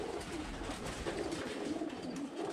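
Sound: roller pigeons cooing

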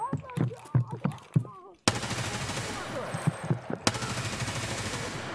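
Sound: gunfire in a video game fight with Glukhar

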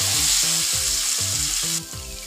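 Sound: potatoes frying and being stirred in oil

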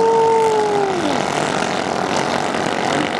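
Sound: 3-meter racing boat engines roaring

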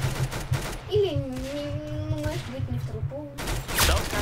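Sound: gunfire from a new gun in Roblox Arsenal video game

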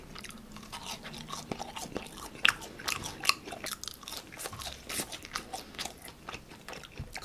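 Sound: biting and crunching Burger King seasoned potato fries

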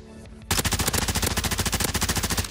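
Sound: gunfire in Warzone video game

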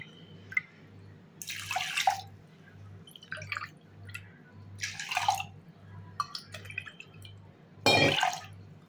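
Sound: water poured into pot of rice and lentils

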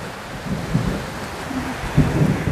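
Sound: rain with thunder

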